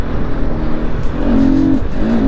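A motorbike on a road draws nearer, its engine rumbling steadily and then rising into a louder, rev-like drone as it approaches close by; no voices.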